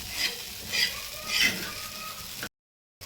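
Kurdai bhaji being stirred and mixed in a pan over a low gas flame, with three soft scraping sweeps under a light sizzle before a brief cut to silence.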